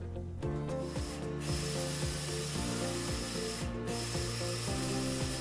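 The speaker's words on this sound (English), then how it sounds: "From the calibration settings, click on print to print the test chart." Roland printer running a calibration test chart print, giving a steady mechanical whir with repeated ratcheting clicks and carriage sweeps, close and continuous with no voices.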